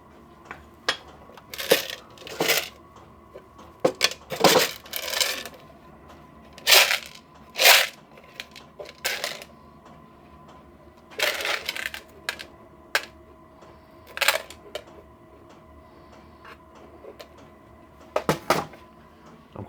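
Small metal bolts, button-head types among them, get rummaged through in a workshop, giving irregular bursts of clinking and rattling with quiet gaps between them. The sounds are close and fairly loud, and nobody speaks.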